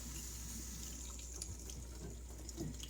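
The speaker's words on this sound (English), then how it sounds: "we are going to wash our eggs" Water from a tap runs steadily and faintly while eggs in wire baskets are washed, a continuous soft hiss with no voices.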